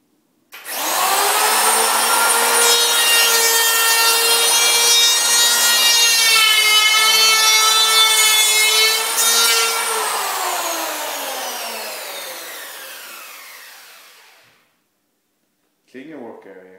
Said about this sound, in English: Hold the electric planer tight against the edge of the wood piece using the saw blade of the planer.